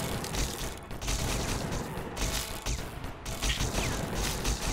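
Rapid bursts of gunfire from a shooter video game, dense streams of many bullets firing in continuous clattering volleys with short gaps between bursts.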